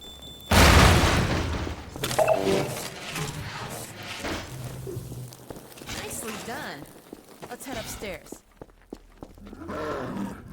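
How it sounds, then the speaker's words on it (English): A sudden, loud blast in Half-Life 2 seals the castle's door for good, booming near and then trailing off into rumbling debris and scattered impacts, with talking running beneath. "This explosion permanently seals the castle's door"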